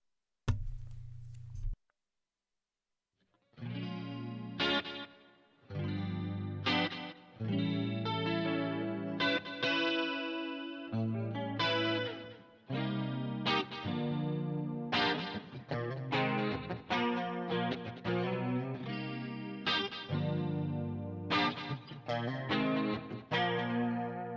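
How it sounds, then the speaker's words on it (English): Clean electric guitar played through chorus and delay pedals on a pedalboard, a run of shimmering chords and picked notes with echoing repeats, after a short low tone and a brief pause. "I have a stronger delay on this just for the cleans because I like a little bit more delay"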